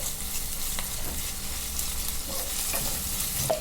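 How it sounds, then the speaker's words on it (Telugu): Ginger-garlic paste with curry leaves fries in a pan for a potato curry, giving a steady close sizzle with occasional stirring scrapes and no speech. "ఇందులో 1 అర స్పూను అల్లం వెల్లుల్లిపాయ పేస్టు, ఇది పచ్చివాసన పోయే వరకు వేపేసుకోవాలి."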